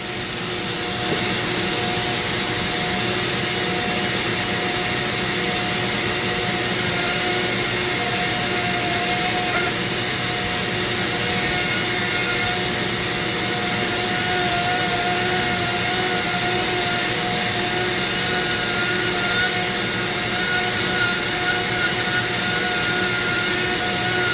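A Dremel rotary tool with a burr carves purpleheart wood, a constant high-pitched motor whine with grinding texture, close and loud, running steadily without pause throughout.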